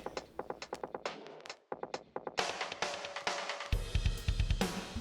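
A lo-fi song run through the iZotope Vinyl plugin, with steady ticking percussion that briefly drops out, then returns fuller with heavier low end and bright noisy texture.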